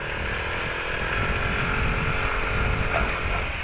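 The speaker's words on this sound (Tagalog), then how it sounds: "Naririnig niyo naman kung paano umiyak yung motor natin." A motorcycle engine strains loudly and steadily up a steep, rough, potholed road toward Malabrigo Lighthouse, with a continuous labored drone close to the rider.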